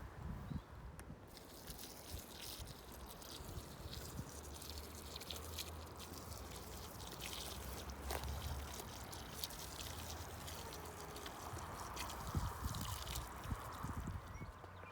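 Water pouring and splashing steadily onto dry soil and plants on an allotment, a continuous close trickle and gush running throughout with outdoor background noise, no talk.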